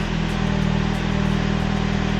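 A 2023 Toyota Camry engine idling just after a remote start, a steady low rumble heard up close with the car door open, constant and even with no talk over it.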